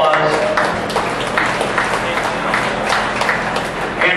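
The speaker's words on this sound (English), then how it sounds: "Yes, give a round of applause." Applause at a county fair dairy cattle show, a scattered round of clapping from a modest crowd, steady and moderately loud with some murmuring under it.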